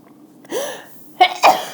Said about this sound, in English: Sneezing during the video.